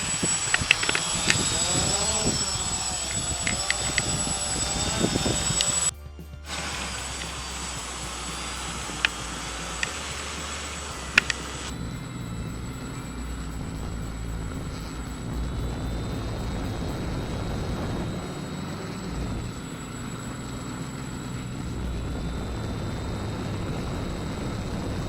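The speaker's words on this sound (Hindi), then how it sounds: "तो अभी हम अपने इस ड्रोन का हाईएस्ट स्पीड टेस्ट करेंगे।" A hexacopter drone flies at full speed, its rotors giving a steady, loud, droning whir that holds at a constant pitch throughout, with a short break midway before the buzzing resumes.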